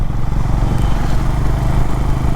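A Honda CB350 motorcycle rides through city streets after an ECU update, its engine giving a steady, loud, close-up drone with rough low-end rumble and no voices over it.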